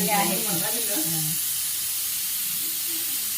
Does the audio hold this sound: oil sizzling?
yes